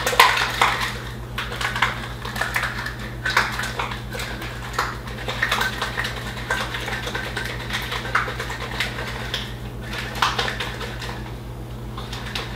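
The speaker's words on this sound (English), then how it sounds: "And now I'm gonna mix it all up. All right, so I'm gonna shake it for about 10 seconds." Cocktail shaker being shaken to mix a Peruvian pisco sour, giving a steady rattling, clattering ice-and-metal rhythm for about twelve seconds over a constant low background hum, with no talk.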